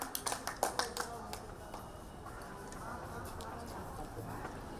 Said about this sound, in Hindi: जोरदार तालियों से इनका स्वागत